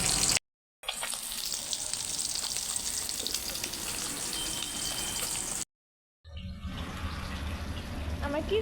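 Fish fry in a pan with a loud, continuous crackling sizzle, broken by two brief silent gaps and a faint voice under the frying.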